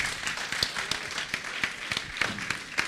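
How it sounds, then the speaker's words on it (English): A small audience at a demo of intimate interfaces gives light, scattered clapping, with distinct individual claps ringing out at a moderate level for a few seconds. "Can we have a little applause for Karen and Herman?"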